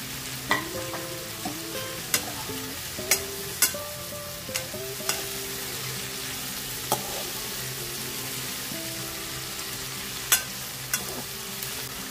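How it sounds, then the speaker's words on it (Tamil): Onions sauté in a pan with a steady sizzle, while a spatula clinks against the metal every second or so, close and fairly loud. "வெங்காயம் நல்லா வதங்கணும்."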